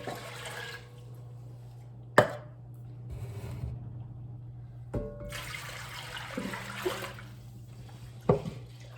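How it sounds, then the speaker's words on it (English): Water poured onto dry beans in a cast iron Dutch oven, splashing and gurgling in a few separate pours with sharp clunks between them, close and fairly quiet over a steady low hum. "so I'm going to add about 8 cups of water."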